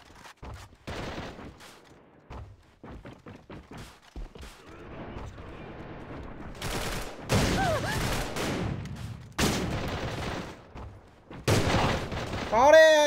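Heavy shotgun blasts from a Saiga12 mix with grenade explosions in the shooter game AVA, dense overlapping bursts that build louder toward the end, close and intense, with voices heard amid the fighting.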